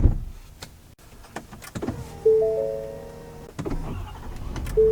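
Electric motor of the power-adjustable steering wheel in a 2023 Ford F-350 Lariat whirring steadily for a couple of seconds inside the quiet cab, preceded by a few soft clicks and thumps.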